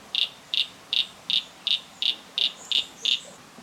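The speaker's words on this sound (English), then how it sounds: "you could hear that distinctive cry, that croak, you know, the croak of that frog" Nine evenly spaced, rasping calls pulse at a steady rhythm near a stagnant pond, a frog's repeated croak, fairly close and clear against quiet background hiss.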